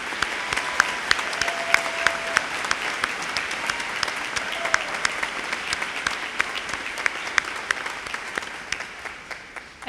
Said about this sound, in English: Please join me in a round of applause for all of our associate degree students.